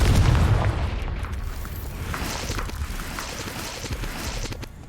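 A Confringo fire spell bursts in Hogwarts Legacy with a loud, deep boom up front, then a rumbling, crackling tail that holds steady for several seconds.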